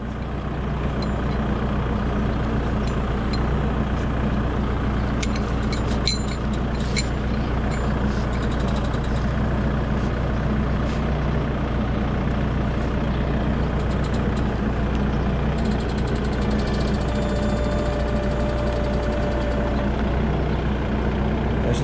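A new tractor pulling forward, its engine running in a steady, loud, continuous drone throughout with a faint tonal whine near the end and no talk.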